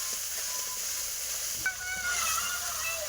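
Ginger garlic paste sautéing in a pan, a steady soft sizzle and hiss throughout with a light scrape of stirring partway through.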